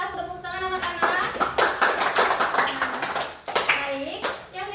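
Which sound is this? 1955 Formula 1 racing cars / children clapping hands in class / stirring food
children clapping hands in class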